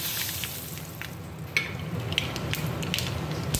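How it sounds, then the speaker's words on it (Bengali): Black mustard seeds tempering in hot oil in a wok, a soft, steady crackling sizzle with scattered small pops and spits, heard close by and fairly quiet, with no voices. "কালো সর্ষে ফোড়ন"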